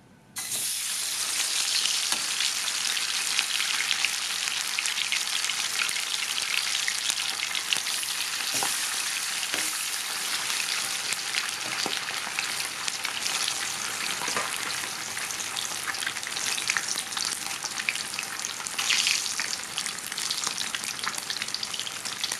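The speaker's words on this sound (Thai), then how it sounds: "ใช้น้ำมันปั้มทอดนะคะ จะทำให้ปลากรอบดีค่ะ" Catfish coated with turmeric deep-fries in hot oil, producing a loud, continuous crackling sizzle with occasional faint pops and no talking.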